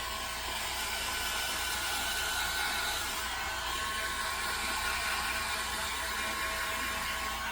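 A dryer blows steadily on paper before it is glued to a card base, a constant close airy roar with no break and no voices.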